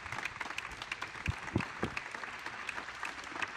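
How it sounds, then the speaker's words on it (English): A press-conference audience honoring newly returned astronauts gives a round of applause that sounds soft and somewhat distant, with a few sharper claps standing out from the steady patter. "Let's give another round of applause to our amazing,"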